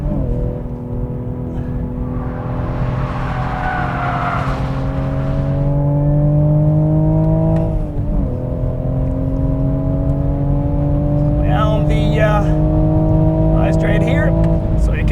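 Toyota Supra A90 Final Edition on a racetrack, its engine droning steadily as it climbs under acceleration, dipping briefly mid-run before pulling up again, heard from inside the cabin while someone talks over it.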